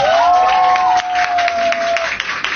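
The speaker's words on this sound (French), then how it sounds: "Applaudissez s'il vous plaît pour Ariana" Audience applause for Ariana at a Haitian gathering, a crowd clapping over a sustained tonal hum or whistle that fades out near the end, the clapping lively and broad throughout.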